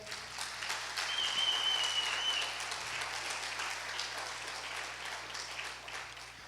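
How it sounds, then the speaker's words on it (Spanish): Church congregation at Iglesia Betel applauding during a family service, a steady, moderately loud wash of clapping that runs the whole time without pause, with a faint voice in the background. "Vamos a darle un aplauso al Señor"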